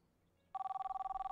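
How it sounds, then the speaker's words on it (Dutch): A telephone starts ringing in the restaurant simulator game Kebab Chefs, a clear, rapidly pulsing electronic trill that begins abruptly after a quiet moment and continues steadily. "Ik hoor een telefoon"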